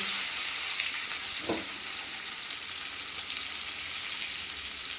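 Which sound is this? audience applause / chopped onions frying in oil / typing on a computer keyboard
chopped onions frying in oil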